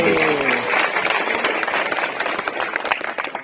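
Loud crowd applause for the Kanwar community at a community gathering, dense clapping sustained for several seconds and gradually thinning, with a voice at the very start.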